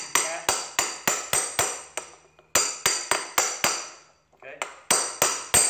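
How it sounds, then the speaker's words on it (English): Sharp metallic hammer taps, with the flat of the hammer, seating a motorcycle wheel bearing, in quick bursts of four or five, a short pause between groups, close and loud with ringing tails. "I use my hammer flat and just give it kind of a tap"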